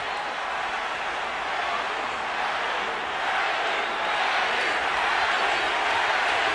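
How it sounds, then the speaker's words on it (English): A boxing crowd in a large arena roars and chants steadily through a Pacquiao versus Margarito fight, a dense, unbroken wash of massed voices at constant loudness. "And the crowd picks up the chant."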